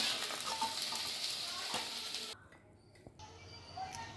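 Okra sizzling in hot frying oil as it is stirred and lifted out of the pan, a steady bright crackle that suddenly thins and drops quieter partway through, with a few light utensil clicks.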